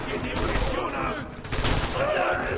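Dense barrage gunfire in Red Orchestra 2: Heroes of Stalingrad, a steady wash of overlapping shots and distant rattling bursts under a constant roar, fairly low in level.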